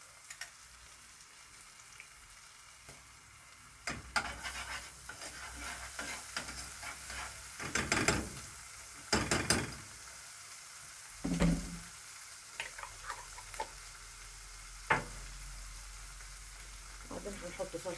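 Tomato paste is stirred into zucchini frying in a pan, making faint sizzling under irregular scrapes and clacks of the spoon against the pan.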